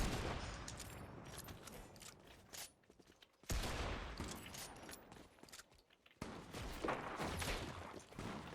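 Sniper rifle fire in the video game Fortnite, heard as a dense string of sharp shots and bursts that run through most of the stretch with two short quiet gaps, loud and crackling, with no voice over it.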